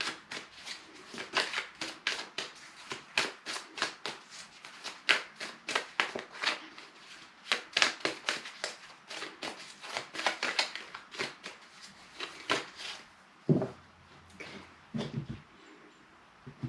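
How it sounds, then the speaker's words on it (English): A deck of tarot cards is shuffled by hand in steady, rapid riffling bursts, close and crisp, with short pauses between handfuls and no talking. "So as I just take a moment to shuffle."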